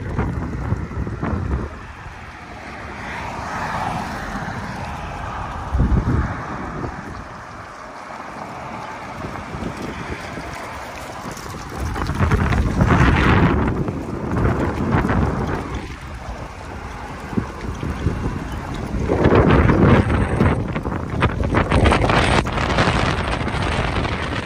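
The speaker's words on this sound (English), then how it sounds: "and it's still really high wind" High wind in a night storm that has brought trees down onto power lines. It roars loudly and continuously against the microphone with surging gusts and deep rumbling, and nobody speaks.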